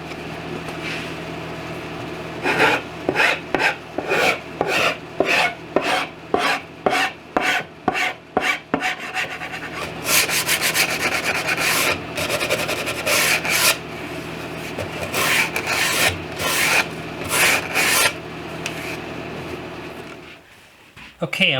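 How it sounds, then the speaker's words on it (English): Rhythmic rasping strokes of a file trimming edge banding on a cabinet, then quicker bursts of sanding friction on the edges, close and loud, with a low machine hum underneath. "I use my file to cut it, file it, sand the edges down."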